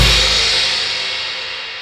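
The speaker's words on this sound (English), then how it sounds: "So you can start with the crash cymbal with 1 and the kick drum will sound something like this." A crash cymbal struck together with a kick drum in a drum lesson: one loud bright wash with a low thump at the onset, then a long, slowly fading cymbal ring with no other sound.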